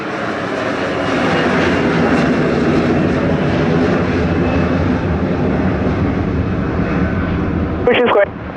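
Air Canada Rouge airliner's jet engines roar steadily and loudly during a go-around at Montego Bay Sangster International Airport, a broad sustained rumble that holds throughout, with a brief burst of talk near the end.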